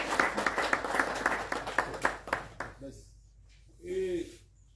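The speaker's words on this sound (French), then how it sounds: "Nous voulons beaucoup applaudir pour elle" Applause at a French-language community gathering, a dense burst of clapping for about two and a half seconds that thins out, followed by a short spoken phrase.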